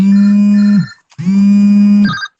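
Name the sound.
phone ringing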